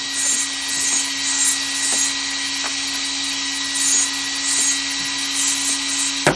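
An SPT5425LV 25 kg RC servo motor runs with a steady high electric whine and hum, with faint periodic ticks throughout.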